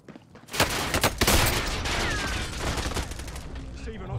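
Loud, dense bursts of automatic gunfire in Call of Duty: Warzone, rapid overlapping shots starting after a brief quiet moment and sustaining as a heavy fusillade, with a voice briefly heard amid the shooting.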